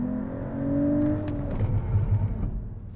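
Mercedes-AMG CLE 53 launching hard in race mode: an engine revs up in a rising whine, then pulls with a loud, rough roar heard from inside the car.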